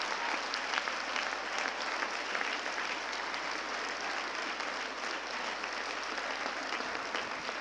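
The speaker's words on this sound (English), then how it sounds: "I think he needs a big round of applause" A graduation-day audience at a medical college claps for an anatomy professor, a dense, steady wash of applause from a large crowd that holds evenly for several seconds without pause.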